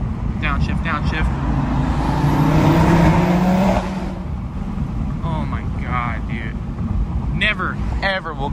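Audi RS3 turbo engine accelerating and downshifting through an underpass, a loud steady drone swelling for several seconds then easing off, with wind rush and someone talking over it.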